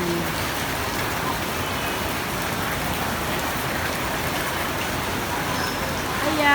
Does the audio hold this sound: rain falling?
yes